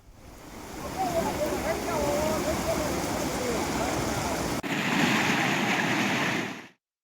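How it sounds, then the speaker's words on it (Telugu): The Chandravanka stream near Nagarjuna Sagar, Nalgonda district, rushes in heavy flood after rain, a loud steady roar of surging water that cuts briefly and ends abruptly, with a voice faintly over the early part. "చంద్రవంక వాగు వరద ఉధృతితో ప్రవహిస్తూ సాగర్ సమీపంలో ప్రకృతి అద్భుతాన్ని ఆవిష్కరించింది."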